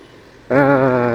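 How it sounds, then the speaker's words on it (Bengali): A truck near a rail crossing lets out a sudden loud, sustained horn-like blast that begins halfway through and holds steady to the end, over low road noise. "ট্রাকটা আসলে ঝামেলা করতেছে"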